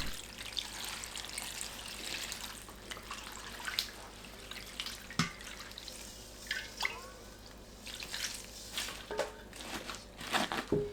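Salt brine of water and sea salt poured over young radish greens, a quiet close trickle of running water with scattered drips and small splashes.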